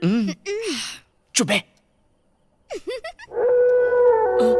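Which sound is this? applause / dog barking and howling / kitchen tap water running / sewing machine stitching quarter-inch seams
dog barking and howling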